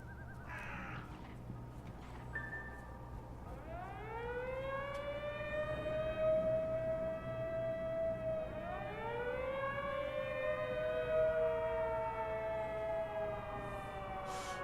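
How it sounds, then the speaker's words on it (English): A wailing video game police siren rises and falls in long sweeping tones, loud and sustained, with a second wail starting midway over a steady low background hum. "you probably heard those sirens before"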